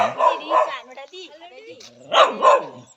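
Two quick pairs of sharp dog barks ring out close by, separated by a short pause with some background talk.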